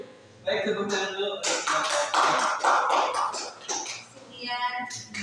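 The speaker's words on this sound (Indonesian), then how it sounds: "tepuk tangan dulu" Students in a classroom clap together on cue, a burst of quick, uneven claps that swells and fades, with voices speaking before and after.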